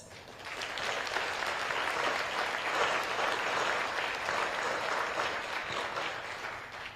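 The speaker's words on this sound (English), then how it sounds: "I would like us all to please give MOFA Taiwan a round of applause." Banquet audience applauding Taiwan's Ministry of Foreign Affairs at its spring new year gathering, a steady, full round of clapping from a large crowd that swells and holds for several seconds.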